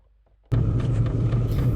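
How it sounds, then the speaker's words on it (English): A diesel heater bursts into a loud, steady low rumble and roar from a standing start after near silence, running continuously and close by at a winter camp. "When first starting the diesel heater, you can tell it's a bit loud, but then it quiets down after the initial startup"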